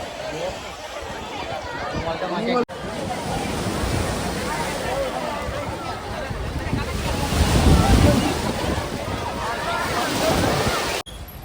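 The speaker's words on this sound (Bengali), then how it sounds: "বৃষ্টি পড়ছে ঝিরি ঝিরি একদম, ভালোই হাওয়া দিচ্ছে" Sea waves washing ashore at a coastal boating spot in Rameswaram, with drizzling rain and wind buffeting the microphone, a steady loud rushing wash that swells near the end, broken by two abrupt cuts.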